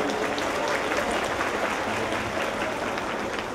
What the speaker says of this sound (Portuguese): que eu pediria uma salva de palmas